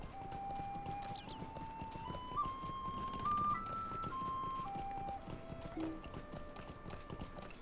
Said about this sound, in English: I get to ride my horse in many colors.